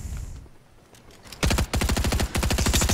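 Gunfire in the Fortnite video game: after a quiet lull, loud rapid automatic bursts rattle close up, pausing briefly and then resuming in fast, dense volleys.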